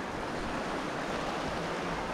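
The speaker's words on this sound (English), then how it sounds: "But some more footage of the creek." Dodd Creek flows steadily on a forest hike, giving off a soft, even wash of rushing water with no breaks and no voices.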